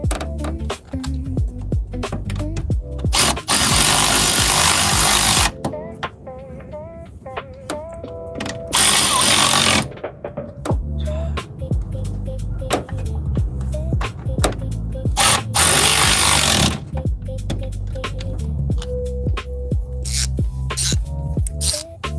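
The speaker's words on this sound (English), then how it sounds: "We're gonna go ahead and tighten back up this brake booster." A power tool tightens brake booster bolts on a car in bursts of loud buzzing and rattling, broken by quieter stretches of clicks and handling noise up close.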